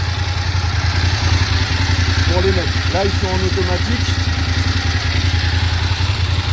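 A Suzuki GS 750 motorcycle engine idles with a steady, loud mechanical drone and clatter throughout, while someone speaks briefly over it.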